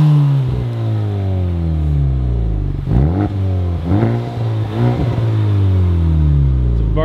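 A Honda Civic Type R engine revs loudly and repeatedly through a newly installed HKS Spec L exhaust, the pitch rising and falling in deep throaty bursts.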